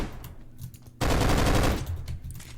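A fully automatic weapon in an indie video game fires one sustained burst of rapid gunfire at close range, preceded and followed by quieter low rumbling background game sound.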